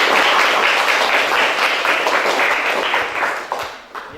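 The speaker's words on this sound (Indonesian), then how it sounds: "Jadi tepuk tangan dong untuk kelompok menteri." A classroom audience applauds a student group's project presentation, dense continuous clapping from many hands at moderate loudness that tapers off near the end.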